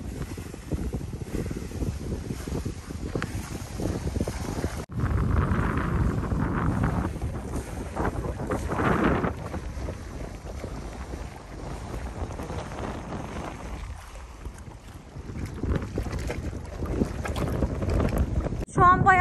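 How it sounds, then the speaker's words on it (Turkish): Strong wind gusts buffet the microphone beside a lake in the Swiss mountains around First, with light drizzle, producing loud roaring bursts that rise and fall, while a voice speaks faintly underneath. "Şu an inanılmaz bir rüzgar var."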